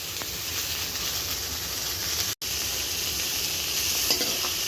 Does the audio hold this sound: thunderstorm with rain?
no